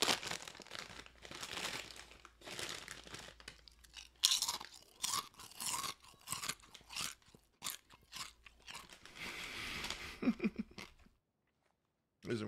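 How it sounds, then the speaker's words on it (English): Crunchy chips are chewed up close in a string of loud, irregular crunches mixed with crinkling of the bag, with a voice speaking briefly between bites. "time to eat a few chips"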